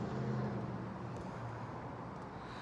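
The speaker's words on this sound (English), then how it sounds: "I live next to a busy street, and boy do they get noisy sometimes" Steady road traffic from a busy street beside a home container garden, a continuous low rumble of passing cars and engines close by with no voices over it.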